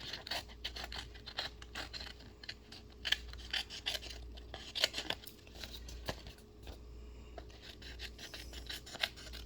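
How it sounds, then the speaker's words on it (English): Scissors snip and rasp through designer paper for a Father's Day card, a close, faint series of irregular cutting and scraping sounds with soft rustling between. "then you take your scissors"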